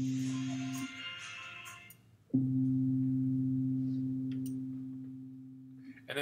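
Steady pure electronic sine tones from a Propellerhead Reason 8 synthesizer hum together, shifting in phase, with a brief dip before a sharp re-entry as the layered tones continue, faintly shifting in texture.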